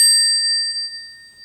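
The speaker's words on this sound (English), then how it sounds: "this one actually has a big brass bell on top and a really loud sound to it" A large brass Portland Design Works bicycle bell rings once, loud and bright, with a clear sustained tone and high overtones that slowly fade across the whole clip.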